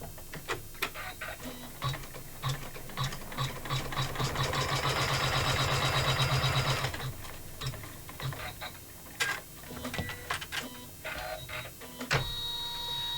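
An embroidery machine stitches a pouch in the hoop, a close rattling of rapid needle strokes that swells into a dense, busy run midway before settling back into scattered mechanical clicks and ticks.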